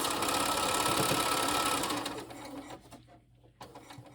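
Sewing machine stitching quilt blocks in a fast, even mechanical whir that runs for about two seconds, then winds down into quieter clicks and fabric handling.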